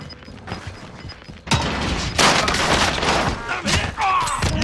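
Gunfire in a Rainbow-style shooter game: after a quieter start, a sudden loud volley of shots bursts in and continues as sustained, cluttered firing with thumps, while voices are heard underneath.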